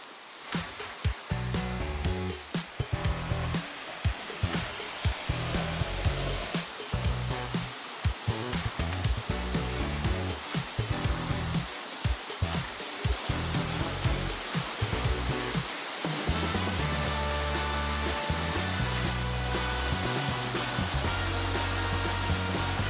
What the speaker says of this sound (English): We get to walk close to that falls there.